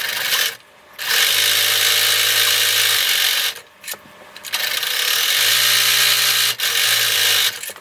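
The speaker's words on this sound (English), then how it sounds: "You're going to sew this edge with a 3/8 inch seam allowance, and you are going to backstitch when you start and when you stop." A sewing machine stitches along the edge of a fleece mitten in loud, close, sustained whirring runs. The motor stops briefly twice between bursts of stitching.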